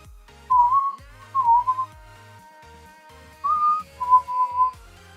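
A person whistles a few short, clear melodic phrases, two near the start and two near the end with a pause between, over a soft background of low plucked musical notes.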